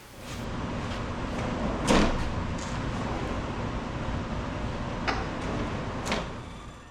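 Cherry wood drawers with temporarily installed hardware slide and knock into a cabinet several times, with a few sharp clunks and bumps spread across a quiet room.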